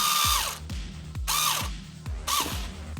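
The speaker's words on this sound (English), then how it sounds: "I'm using the drill because it's faster" A power drill drives a screw into a Traxxas TRX4M shock link in three short bursts. Each burst has a high motor whine that drops in pitch as the motor slows, and there are ratcheting clicks between bursts, close and loud.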